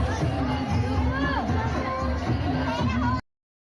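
Dense crowd at a Durga temple during Dussehra, with continuous loud chatter and overlapping voices filling the space close by, including children, before the sound cuts off abruptly.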